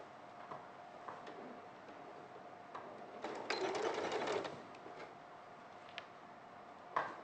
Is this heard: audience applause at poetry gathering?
no